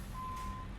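A single steady reversing beep tone from a truck backing up in American Truck Simulator, a Western Star 57X in a forklift-hauling job, sounds briefly over low engine rumble.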